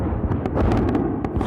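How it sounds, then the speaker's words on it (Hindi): A rapid cluster of sharp popping blasts from a night attack on Iran's Arak nuclear complex, like fireworks or firecrackers going off, over a rumbling background. "एक बड़ा धमाका, बड़ा अटैक, बड़ी आवाज जिसने लोगों की नींद तोड़ दी"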